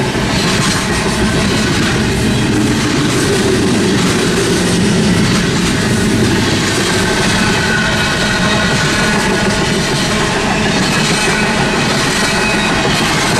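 An eastbound freight train rolls steadily through Tehachapi, with loud, continuous rumble, wheel clatter and rail noise, close by and unbroken for the whole stretch.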